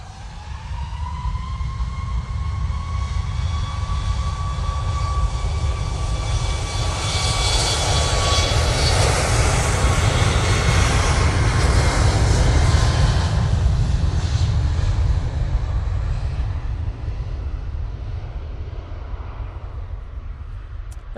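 A TUI airliner departs Manchester Airport, its jet engines roaring loud and close. The roar swells to a peak partway through and then slowly fades with a falling whine, and no one speaks over it.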